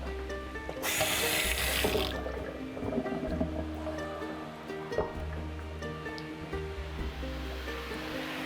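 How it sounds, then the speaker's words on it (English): Water from a kitchen tap splashes into a bowl for a coconut roll batter, a bright rushing burst lasting about a second, then quieter clinks and handling noises close by. "Just add a little water to this."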